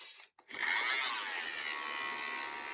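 An electric drill starts after a brief silence and runs steadily, a close high whirring buzz that holds at constant speed to the end.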